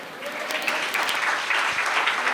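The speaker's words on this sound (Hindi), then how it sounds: "आपने ताली बजाई, बहुत अच्छा किया आपने ताली बजाई।" A church congregation applauds at a sermon, a dense, steady wash of many hands clapping at once, loud and close, without a break for the whole stretch.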